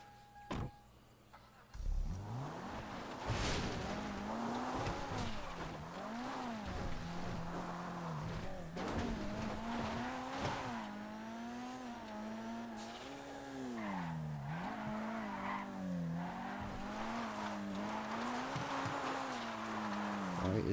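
An all-wheel drive car in a driving game slides and skids, its engine whining and rising and falling in pitch through repeated throttle changes, with occasional tire scrub, steady and fairly close.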